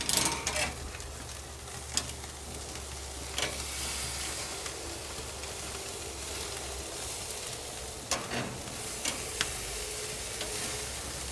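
A dry-aged ribeye sears over live fire in an M Grills M36 sear box, fat spitting in a loud, constant sizzle broken by sharp pops and crackles, no talking.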